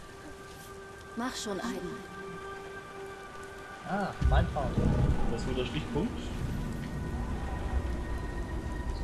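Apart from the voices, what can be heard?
rain in the video game Beyond: Two Souls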